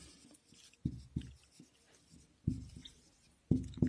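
Someone writes on a board during a physics lecture on electricity, producing short separate scratchy strokes in irregular bursts, close and fairly faint, with no talking over them.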